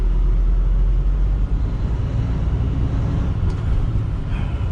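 Heavy truck with an unsynchronized 13-speed transmission, its engine droning loud and steady throughout as the driver floats through gears, with a low rumbling roar and no talk.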